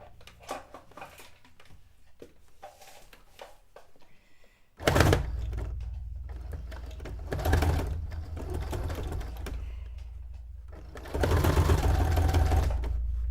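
A sewing machine labours through thick layered fabric for a cape-dress, sounding in three separate loud, strained bursts with quieter handling noise and clicks between them.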